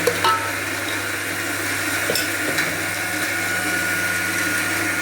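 A kitchen mixer grinding two tomatoes, a loud steady whirring drone with a constant motor hum that runs unbroken from start to finish, close and without talk.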